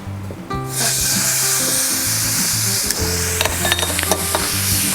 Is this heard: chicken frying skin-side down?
yes